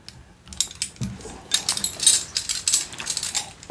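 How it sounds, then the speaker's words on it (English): A bunch of old metal keys for the doors of a very old church in Mexico jangles and clinks softly in irregular bursts, close up and quiet, with no talking. "these were the keys for all of the doors in that church"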